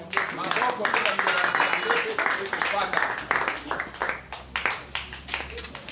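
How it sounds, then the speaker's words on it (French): A church congregation at a Sunday worship service breaks into applause, with rapid, dense clapping from many hands in a reverberant hall. A voice speaks over the clapping, which stays steady before tapering into scattered claps. "On acclame pour la parole de Dieu."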